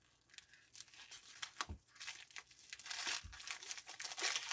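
A crinkly plastic package is cut and torn open near the microphone, with irregular crackling and rustling that grows louder and busier toward the end.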